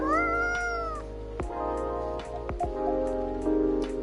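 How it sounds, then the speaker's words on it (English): A cat in the Coffee Talk 2 video game meows in a few drawn-out, plaintive calls over a soft bed of falling rain and faint background music, with no talking. "Cats."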